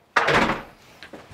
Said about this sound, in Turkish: Tekrar kapıyı kapatıyorum.